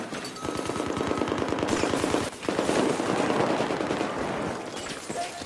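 Semi-automatic DMR rifle firing in Battlefield 4, a loud, dense run of rapid shots with one brief pause near the middle, then tapering off toward the end.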